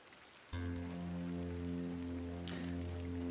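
Steady rain from The Excavation of Hob's Barrow, a muddy ploughed field in a downpour, beginning abruptly and continuing as a dense constant wash under a low sustained musical drone, with no talk.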